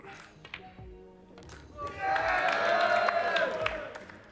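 Crowd at a 1996 Mosconi Cup pool match between Earl Strickland and Ronnie O'Sullivan breaking into cheers, whoops and applause that swell after a quiet start, with a few sharp taps beforehand.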